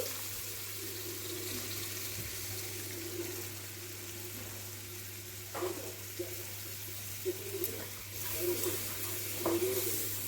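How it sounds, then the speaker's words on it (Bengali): Boiled milk is poured into a pan of frying garlic and oyster mushrooms, producing a soft, continuous liquid pour and sizzle with a few faint clinks, fairly quiet and close. "ফুটিয়ে রাখা দুধটা এখানে দিয়ে দিলাম।"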